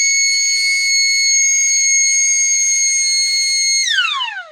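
A MineBea Intec metal detector sounds its alarm when a rubber product is activated: a loud, steady high-pitched electronic tone holding for about four seconds, then sliding downward in pitch as it cuts off.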